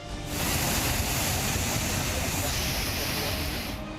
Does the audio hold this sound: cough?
no